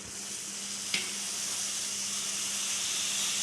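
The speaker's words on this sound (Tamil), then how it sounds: "இப்போ வந்து பால் பொங்குது." Milk boils up in a pot while making paneer at home, a steady close bubbling hiss with one faint click and no talk.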